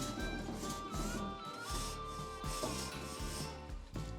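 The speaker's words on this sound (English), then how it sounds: "what you generally want to do is you want to obviously give these a nice little scrub" Pellet grill grates being scrubbed, giving a steady run of rough rubbing and rasping strokes up close with a faint metallic ring and no talking.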